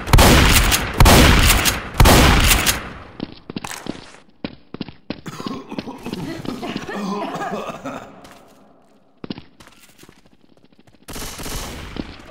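Gunfire in the zombie shooter Left 4 Dead 2, loud bursts of automatic fire and single shots at the start and again later, broken by stretches of footsteps, scuffling and game noise, with shouting voices mixed in.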